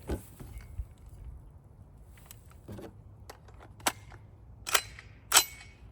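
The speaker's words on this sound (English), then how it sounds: "We're gonna fire just one round, make sure it still locks back," A single round fired from a BCA AR rifle chambered in 8.6 Blackout, heard as sharp outdoor reports among faint clicks and handling noises, with the loudest crack near the end.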